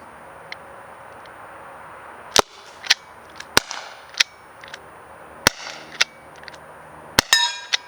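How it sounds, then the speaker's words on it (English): Sharp shots from a Byrna LE less-lethal CO2 air launcher: a faint first pop, then about eight loud, crisp cracks at irregular intervals, the last few fired in quick succession. "You notice the first shot was a little weak. That's because that's when you're piercing the CO2."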